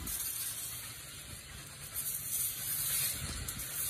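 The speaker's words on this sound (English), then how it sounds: "Give him a nice teat spray." Teat spray misting onto a cow's teats in a milking barn, a steady close hiss filling the whole stretch with slight swells in strength, over a low rumble of background machinery.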